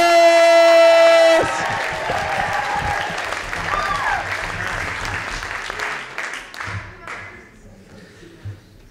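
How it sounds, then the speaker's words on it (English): An audience at a library slam poetry competition claps and cheers loudly after a sustained tone, with the applause gradually thinning and fading out. "Please keep your applause going for our next poet coming to the stage."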